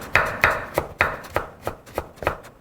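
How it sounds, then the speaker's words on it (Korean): Knife julienning burdock root into fine strips on a cutting board, a run of about eight crisp, evenly spaced chops, close and clear with no talk over them. "채를 곱게. 오, 칼이 잘 들어요."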